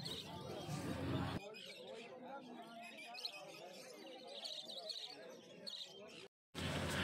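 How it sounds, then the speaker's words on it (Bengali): Budgerigars at the Uluberia bird market, a dense, fairly faint mass of chirps and twitters with crowd murmur and voices mixed in. "তো এখানে যে বদ্রি পাখিগুলো রয়েছে"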